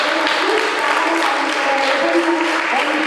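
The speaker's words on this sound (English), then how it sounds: "Shall we applaud for them?" Audience at a school Science Week event applauding for the science teachers, a steady wash of clapping from a crowd in a hall, continuous and fairly loud throughout.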